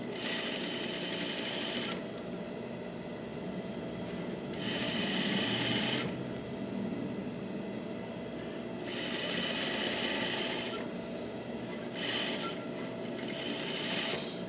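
A sewing machine stitches a puff sleeve in four bursts of steady whirring with pauses between them, the needle's rapid clatter running close and clear.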